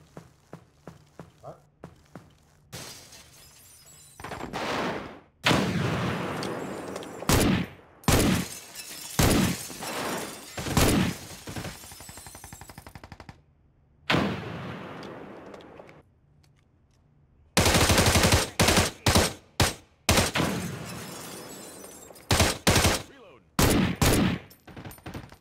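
Bursts of automatic gunfire and sharp shots ring out in America's Army: Proving Grounds, loud and close, in repeated volleys with short gaps, alongside footsteps and glass-like shattering, with players talking over it.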